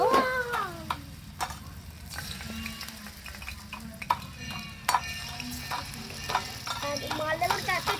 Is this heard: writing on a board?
no